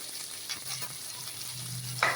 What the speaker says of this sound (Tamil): வெங்காயம் வந்து நல்லா வதக்கி வரட்டும்.